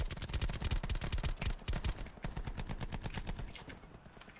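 Rapid automatic gunfire from the Call of Duty Black Ops 4 Blackout battle royale mode, dense bursts of repeated loud shots in steady rhythm, fading slightly toward the end.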